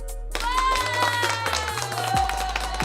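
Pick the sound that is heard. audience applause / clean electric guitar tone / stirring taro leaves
audience applause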